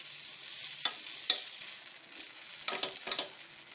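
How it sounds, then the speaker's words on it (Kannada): Jowar paddu sizzling gently in a paddu pan with steady frying hiss, broken by a few sharp scraping clicks and taps as the pieces are turned one by one; no voices. "ಈ ರೀತಿ ಒಂದೊಂದೇ ತಿರುವಿ ಹಾಕೊಳ್ತಾ ಇದ್ದೀನಿ"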